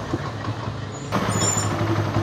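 A Honda CD 70 motorcycle engine runs after a timing chain replacement, a steady low idle chugging that grows louder and busier about halfway through, with no talking.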